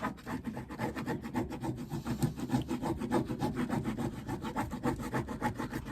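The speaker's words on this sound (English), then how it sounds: "This is just the chisel. It's a dull chisel, so it's not going to cut anything." A dull chisel scrapes a stubborn thin leather layer off a vintage Louis Vuitton briefcase during restoration, making steady, close, rough rasping strokes in a continuous rhythm for the whole stretch, with no talking.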